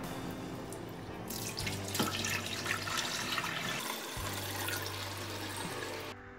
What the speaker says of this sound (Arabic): نطرو 200 غرام الماء